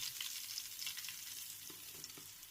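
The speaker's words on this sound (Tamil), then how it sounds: "இந்த மாதிரி பொடி சேர்த்துட்டு அதை நல்லா கிளறி விட்டுக்கிட்டே இருங்க" Ground spice powder is stirred into hot ghee for homemade chicken biryani, giving a soft, continuous sizzle and crackle with light scraping from the stirring, fairly quiet and close, with no talking.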